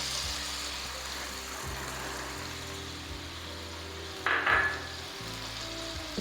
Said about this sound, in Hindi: इसको थोड़ा सा हम फ्राई कर लेंगे